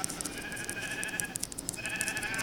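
Sheep bleating in a survival video game, the calls recurring in short bursts over steady game ambience, with no talk.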